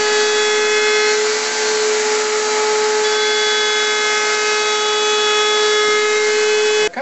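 A router with a bearing cutter set to half-inch height cuts a rabbet in a wooden sea chest frame, giving a loud, steady, high whine held continuously without talk, then cutting off abruptly at the end.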